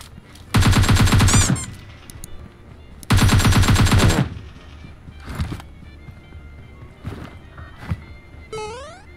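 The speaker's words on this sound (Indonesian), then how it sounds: "Iya ada tembakan di sana." Two long bursts of rapid automatic gunfire, loud and close, followed by scattered single shots and light clanking.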